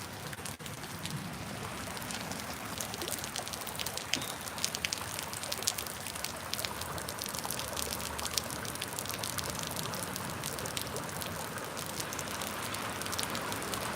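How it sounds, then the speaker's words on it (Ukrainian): Cold hot chocolate pouring steadily in a continuous liquid stream, a soft trickling splash that runs unbroken for the whole stretch with no talk over it. "Смотрите, сколько какао тече."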